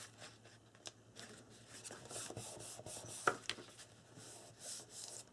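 Paper is burnished down onto a flip folio by hand, producing soft, close rubbing and scraping strokes with a few light taps, quiet over a low background hum.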